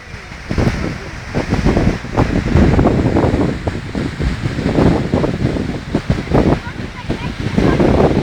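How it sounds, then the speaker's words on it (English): A roaring 90-meter waterfall in Pucon, Chile, sends out a steady, dense wash of rushing water that fills the whole clip, with people's voices faintly mixed in. "You are near the waterfall, not in the waterfall."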